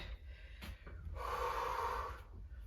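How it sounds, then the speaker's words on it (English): Heavy breathing after a sprint workout, close and fairly quiet: a few sharp snorting breaths followed by a longer, raspy exhale that fades as the breathing settles. "So heavy breathing, settling down second by second."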